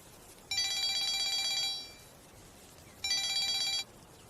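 A telephone bell rings in two separate bursts, with a pause between them. It sounds clear and fairly close against a quiet background.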